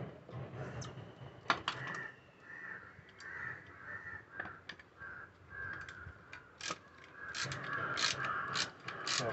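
A ratchet wrench tightens nuts on a motor plate during a petrol-to-hybrid electric vehicle conversion, giving quick clicking ratchet bursts and metallic taps up close in a quiet workshop, with no talking.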